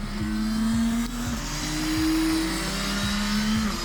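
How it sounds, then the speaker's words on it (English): A motorcycle engine that revs to about 11,000 RPM and makes 90 horsepower idles at a track and revs up and down in several short, rising bursts, loud and close. "It's a really good sounding engine."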